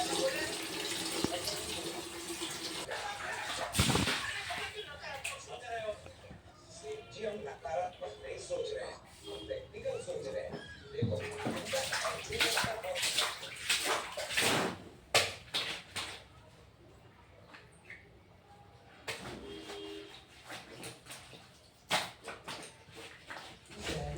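Clothes being washed with water at home, with splashing, running and sloshing water over about twenty seconds in irregular bursts, while someone talks over much of it.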